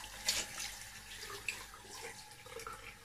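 Hands are rinsed under a running tap in a bathroom sink, giving a soft, steady water flow with faint splashes as the hands move through it, quiet and close.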